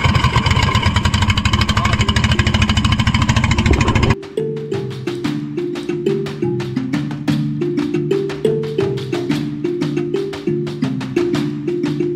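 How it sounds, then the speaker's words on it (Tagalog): A second boat engine sputters and catches after about four seconds of steady roar, then runs in a rough, pulsing rhythm, loud and close. "Pangalawang makina binubuhay na ni Sumo."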